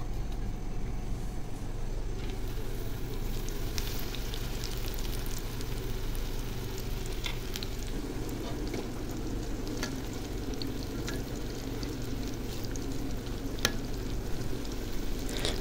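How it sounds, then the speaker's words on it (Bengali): Onion pakoras frying in oil make a continuous dense sizzle and bubbling that hardly changes in level, with scattered faint pops and crackles and no speech. "তো এই যে দেখুন আমি তেলে দিয়ে দিলাম, এখন সবগুলো ভেজে নেব আমি।"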